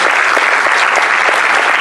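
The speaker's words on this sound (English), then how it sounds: "Round of applause for all the work they've done this far." Dense, loud applause fills the room at the IFC 2018 closing ceremonies, a close and continuous wash of clapping hands with no voices rising above it.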